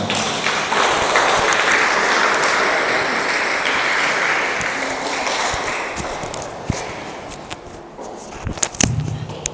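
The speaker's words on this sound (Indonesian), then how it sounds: "Tepuk tangan untuk mereka semua." A crowd of people claps steadily together at a church youth mission camp gathering, a loud, dense wash of applause that holds for several seconds and thins toward the end with a few sharper claps.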